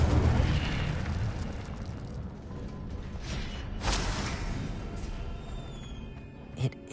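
A fire spell cast in a Harry Potter video game: a rumbling whoosh of flame fills the whole span, with a brief swelling burst near the middle and a sharp pop at the very end.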